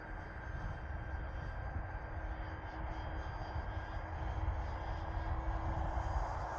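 A Durafly Vampire RC model jet with 3D printed wingtip tanks flies by at low throttle, giving a steady, fairly faint electric ducted-fan whine and airy hiss that swells slightly toward the end.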